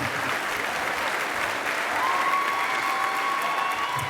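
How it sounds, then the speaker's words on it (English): Loud, sustained applause from an audience at a homebuilding Hall of Fame evening, a continuous crowd clapping wash with a faint tonal whistle running beneath it in the second half. "After all that applause"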